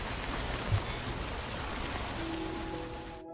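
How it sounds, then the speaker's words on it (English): Steady rain pouring in the video game Death Stranding, a loud, even hiss of falling drops throughout, with a soft tonal hum rising near the end. "I don't think this rain's gonna stop."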